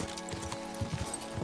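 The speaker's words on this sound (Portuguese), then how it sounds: "Queria mesmo esse cavalo aqui." Horse hooves clip-clop briefly in the medieval video game Kingdom Come: Deliverance II, a soft, quiet run of even footfalls lasting only a moment.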